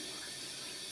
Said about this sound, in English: This is the bidet right next to the toilet in the same room.